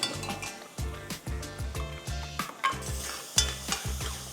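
Onions, leeks, celery and carrots sweat in a pan as a mirepoix for Bolognese lasagna, with a soft sizzle under steady, rhythmic utensil scrapes and clinks against the pan, close up.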